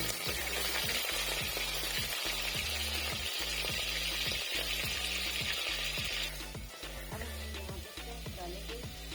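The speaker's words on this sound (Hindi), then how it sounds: "तो अब हम इसमें अपना जो है चिकन जो है वो यहाँ पे फ्राई करेंगे इसके अंदर" Chicken sizzling in hot ghee inside a clay handi pot, a steady crackling fry close up, with a regular scraping stir against the pot running underneath throughout.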